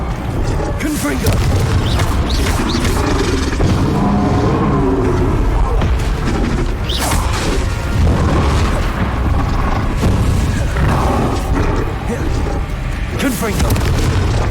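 Repeated explosive spell blasts and booms from fiery curses in the Hogwarts Legacy video game, loud and continuous across dense battle noise, with character voices calling out spells throughout.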